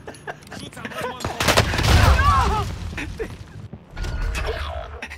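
Gunfire in a multiplayer shooter game as a fuel canister is shot, sharp scattered shots and mechanical clanks around a louder booming burst in the middle, with fainter bursts again near the end.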